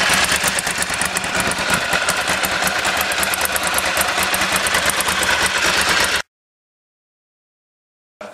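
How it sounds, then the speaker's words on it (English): Bimota motorcycle with a Ducati 1100 air-cooled V-twin running steadily, a loud, close, continuous engine note with mechanical clatter for about six seconds, then an abrupt cut to silence. "So it's powered by the Ducati 1100 air-cooled V-twin."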